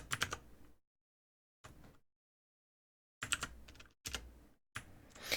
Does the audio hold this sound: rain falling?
no